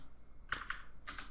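A few quick keystrokes on a computer keyboard, two short clusters of crisp clicks close by in a quiet room.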